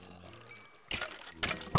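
Flowing water in the Minecraft video game, heard as bursts of broadband rushing that swell and cut off in separate surges over a quieter background hum.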